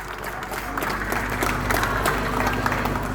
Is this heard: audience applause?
yes